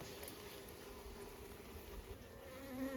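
Honeybees buzz in a continuous, fairly faint drone during a late-autumn hive inspection before winter, steady and close with a slight swell at the end and no talking.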